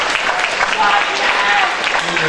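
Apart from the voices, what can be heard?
audience applause for senior student government candidates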